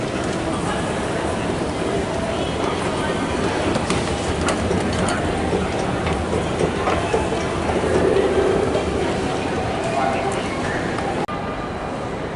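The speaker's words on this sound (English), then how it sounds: "I can feel the trains rumbling under my feet" Low, steady rumble of trains running beneath the concourse at Moynihan Train Hall in New York, a continuous dense roar with faint clacking, while a busy crowd murmurs throughout.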